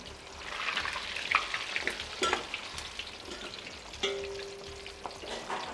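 Battered pomfret fish frying in oil, a soft bubbling sizzle with scattered pops and a few light clinks, fairly quiet and close, with no talking.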